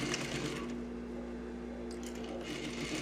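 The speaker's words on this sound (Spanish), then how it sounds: "Esto lo vamos a hacer con una puntada de medio centímetro." A sewing machine runs steadily while stitching a half-centimetre seam at the waist of a garment with a diagonal pocket, a continuous low hum with a quiet mechanical whir throughout.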